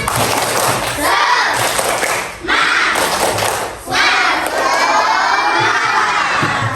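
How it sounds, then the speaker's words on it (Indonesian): Elementary schoolchildren in a classroom doing a rhythmic spirit clap while shouting and cheering together, loud and close, with two brief dips where the noise drops before surging back. "Ya, sudah kita tepuk semangat dulu."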